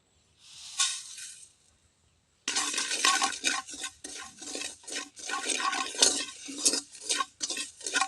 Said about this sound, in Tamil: பாருங்க ஓமம் வறுக்கிறேன் நல்லா கமகமனு வாசம் வந்து அரைக்கலாம்